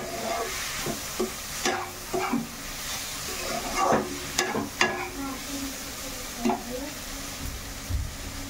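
Cluster beans and potatoes frying in a pan, a steady sizzle broken by frequent clinks and scrapes of a stirring spoon against the pan, up close with no talk.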